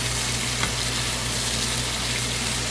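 Ridge gourd and potatoes frying in a pan over medium heat for a Bengali posto dish, giving off a continuous close hiss of oil sizzling with a faint stir near the start.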